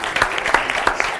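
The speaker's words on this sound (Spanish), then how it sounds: "Un aplauso para Javier Luengo." An audience applauds for Javier Luengo at a live finance and social media event, a short burst of clapping with sharp, irregular claps close by.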